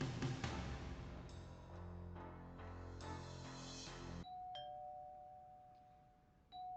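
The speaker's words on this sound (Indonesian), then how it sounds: "ada yang membunyikan bel pintu" A doorbell rings indoors: a run of chiming tones, then softer single ding notes after a pause, moderately faint and heard without speech.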